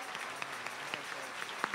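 A church congregation applauds faintly at a sermon, with scattered, soft claps spread across a brief moment.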